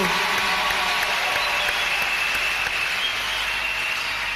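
A church congregation claps together in steady, dense applause that stays loud throughout, with no voices standing out.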